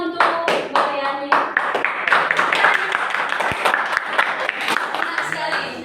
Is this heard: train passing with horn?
no